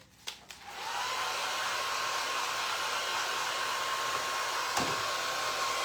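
A hair dryer blows steadily on a freshly decoupaged Christmas stocking, a continuous close whirring rush with a brief knock or two as it switches on.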